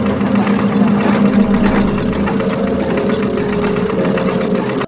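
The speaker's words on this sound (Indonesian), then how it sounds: "Diana disuruh untuk menggunakan mesin jahit kejek yang berada di ruangan tersebut." A treadle sewing machine is pedalled hard in a film scene: a steady, loud mechanical whirring and clatter with a constant rhythmic drive, running without pause until it cuts off abruptly at the end.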